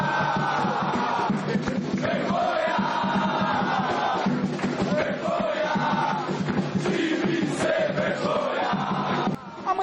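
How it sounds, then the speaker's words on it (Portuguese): About 300 São Paulo supporters protest outside Pacaembu stadium, their massed chanting and shouting forming a loud, continuous roar with rising voices and scattered yells that hold until a sudden drop at the very end. "A manifestação da torcida tricolor em função dos últimos maus resultados da equipe reuniu cerca de 300 torcedores do lado de fora do estádio do Pacaembu"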